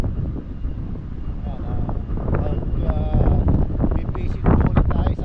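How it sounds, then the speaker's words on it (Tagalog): Gusty wind rumbles steadily across the microphone out at sea on a fishing trip, a loud low roar that swells slightly toward the end, with voices faintly underneath. "Na po at medyo mahangin ngayon."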